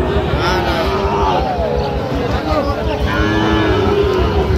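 Sahiwal bulls, calves and cattle low loudly and repeatedly at a busy rural livestock market, long drawn-out moos overlapping with crowd chatter and voices nearby.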